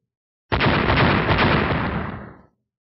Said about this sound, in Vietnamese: Tiếng nổ vang ngập trời liên tục không dứt